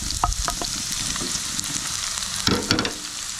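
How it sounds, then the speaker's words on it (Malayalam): Chopped onions sautéing in a hot pan for a knol khol vegetable curry, a steady close sizzle with a few scraping stirs and a louder burst of crackling midway, no voices. "സവാള ചേർത്തിട്ട് നന്നായിട്ട് വഴറ്റിയെടുക്കാം"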